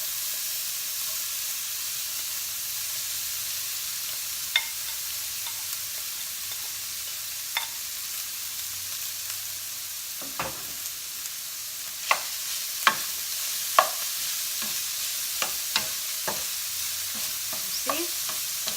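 Sisig sizzling and being stirred in a hot pan, with a steady background hiss broken by sharp scraping clicks and pops of a utensil against the pan, growing busier near the end.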